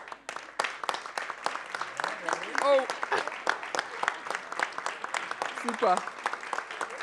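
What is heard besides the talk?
audience applause for stage participants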